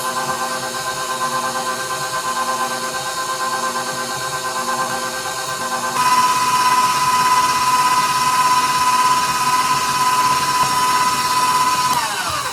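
An electric mixer running at medium speed, beating eggs into pound cake batter, holds a steady high whine and then grows louder and brighter halfway through as the speed rises, with no talking.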